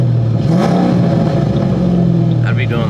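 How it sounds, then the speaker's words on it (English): A tuned Mustang GT engine revs loudly and close, a steady throaty roar with rising pitch, while a voice talks briefly underneath. "Revving."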